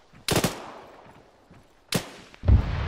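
Gunfire in the military shooter ArmA 3: a sharp rattling burst, a second burst about a second and a half later, then a heavier booming shot, loud and close, with no talking.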